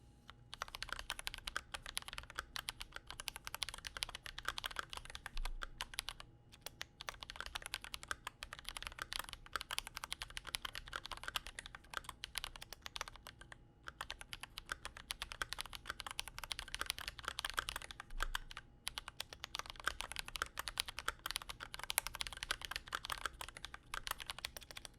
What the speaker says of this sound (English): I'm going to go ahead and do the typing test.